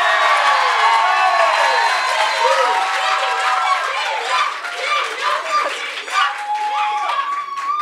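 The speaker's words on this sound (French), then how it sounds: "Donc, on va aussi faire les applaudissements." Audience at a French science-communication event cheering and clapping together, with excited whoops and shouting voices rising over a dense, steady wash of applause throughout.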